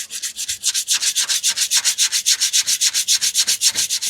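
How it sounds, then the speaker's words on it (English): Body filler on a Mk3 Ford Zephyr hot rod being sanded by hand, a fast, even back-and-forth rasping that repeats in steady strokes, close and loud with no voices. "So now we sand. Many sandings. Let's see if we can sand it yet."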